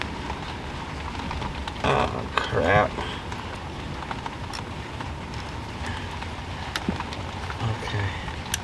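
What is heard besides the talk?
rain falling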